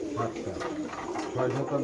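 Pigeons coo in cages at a Bangladeshi pigeon market, soft repeated throaty coos close by, mixed with crowd murmur and nearby talk.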